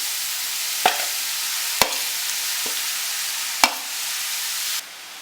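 Grated beetroot sautéing in a pan, a soft steady sizzle with a few sharp spatula scrapes spaced about a second apart, ending with a sudden drop in level.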